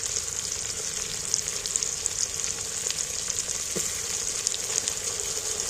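Garlic paste and onion fry in a pan with a constant crackling sizzle, close and moderately loud, dotted with small pops and an occasional stirring clink, with no talking.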